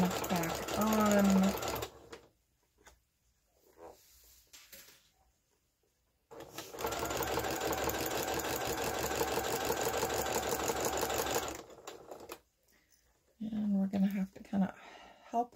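A sewing machine back-stitches across plain-weave fabric woven from knitting yarn, running in two sustained bursts of steady whirring separated by a quiet pause, with a voice talking briefly between and after the runs.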